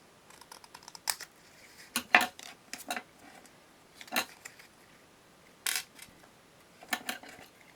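Scissors snip paper in short, separate bursts, several crisp cuts spaced irregularly and close by, quiet between strokes, while a handmade card project takes shape.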